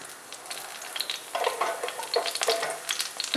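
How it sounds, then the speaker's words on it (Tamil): Cinnamon, clove, cardamom, fennel and curry leaves frying in oil for a village-style country chicken curry give a close crackling sizzle that grows busier and more spattery as it goes on. "எண்ணெயில் வந்து பட்டை, கிராம்பு, ஏலக்காய் போடுறேன். அப்புறம் கொஞ்சம் சோம்பு, அப்புறம் கருவேப்பிலை."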